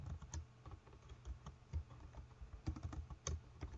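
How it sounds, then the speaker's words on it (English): Keys clatter on a computer keyboard in quick, uneven bursts of soft clicks, close by and fairly quiet, with no talking over them. "Can't talk and type."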